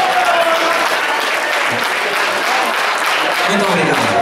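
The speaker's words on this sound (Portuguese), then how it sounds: "Uma salva de palmas ali ao Carlinhos" Steady, loud applause from a large crowd, continuous clapping throughout with a few voices faintly mixed in.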